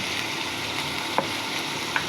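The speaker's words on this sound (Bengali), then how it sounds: "তেল দিয়ে দিচ্ছি।" Chicken sizzling in hot oil in a pot on the stove: a steady, close frying hiss with a couple of faint clicks and pops.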